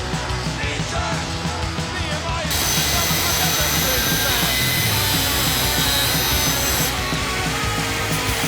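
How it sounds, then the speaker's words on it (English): A power tool cuts and grinds down a metal weld on a C5 Corvette. A loud, harsh, continuous grinding roar carries a piercing high whine through the middle stretch, close up and steady. "So lots of cutting and grinding."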